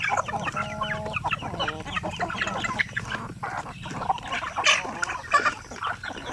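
Flock of native chickens clucking and calling at a farm coop, a busy overlapping chorus of clucks and squawks close by, with no talking.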